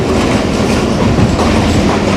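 The Kohat Express, heard from aboard on its Rawalpindi to Kohat run, passes through a Pakistani railway station. A loud, continuous rumble and rattle of the carriages fills the sound, with no voices.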